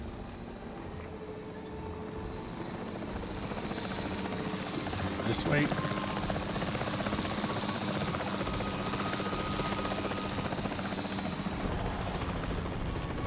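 A capture team helicopter in the video game Jurassic World Evolution 3 drones steadily throughout, a continuous rotor roar with a brief sharp burst midway, while a voice speaks briefly over it.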